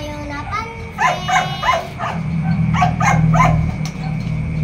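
A dog barks repeatedly in quick, loud bursts close by, a run of sharp yaps over a low background hum.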